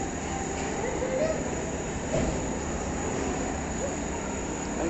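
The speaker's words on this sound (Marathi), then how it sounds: "Railway platform." Railway station platform ambience: a steady, broad rumble of rail traffic and crowd noise with no clear single event.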